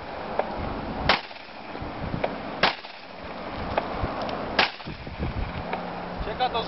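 A Springfield XD45 pistol chambered in .460 Rowland fires three sharp, loud cracks spaced about 1.5 to 2 seconds apart outdoors, over a steady background of wind and rustle.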